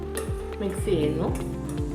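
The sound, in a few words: mixing water with turmeric powder and salt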